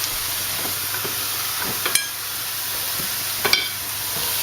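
Four pork chops frying in a pan, giving a steady, fairly quiet sizzle and hiss with a few sharp crackles and pops scattered through it, and no talking.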